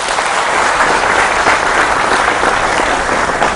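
A studio audience gives sustained, dense applause to welcome Dr. Firdous Ashiq Awan, a political figure, onto a talk show; the clapping is steady and loud throughout, with no talk over it.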